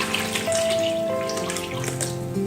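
Cabbage being rinsed under a running kitchen tap, a steady close splash of water with brief clinks of a pot or bowl, no talking.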